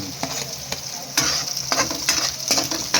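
Garlic fries in a hot pan with a loud, close sizzle, broken by repeated scraping strokes of a utensil stirring it.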